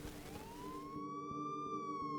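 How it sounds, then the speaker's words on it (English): A siren wails in a rising, sustained tone, faint and somewhat distant, over a low rumbling background, with no voices. "Sirens."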